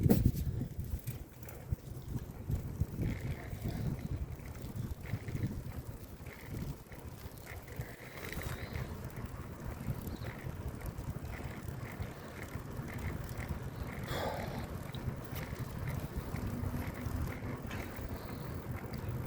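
A bicycle ride on a rainy day, with a low, constant rush of wind buffeting the microphone and a faint rolling rumble underneath, quiet and continuous with no talking.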